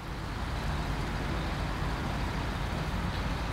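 An old truck in Snowrunner grinds steadily through a creek, a continuous low engine rumble mixed with broadband splashing and rushing noise, even and close with no pauses.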